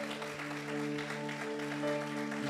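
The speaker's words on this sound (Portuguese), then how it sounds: "Gostaria de uma salva de palmas para nossa querida pastora Márcia" A church congregation claps steadily during a Holy Communion service while sustained organ or keyboard chords ring underneath, in a reverberant hall.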